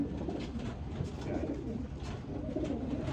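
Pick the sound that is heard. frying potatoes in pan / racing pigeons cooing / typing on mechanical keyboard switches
racing pigeons cooing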